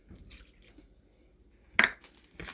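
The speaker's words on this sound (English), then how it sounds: "And then I'm just going to add half a cup of water to it." Water is poured into a salt dough mixture of flour and salt, giving soft wet squishes and drips followed by a sharper splashing burst, close and quiet with no voices.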